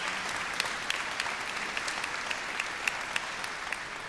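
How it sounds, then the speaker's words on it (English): A graduation ceremony audience breaks into sustained applause, a dense, even wash of many hands clapping with occasional sharper nearby claps rising out of it. "Can we give them a round of applause?"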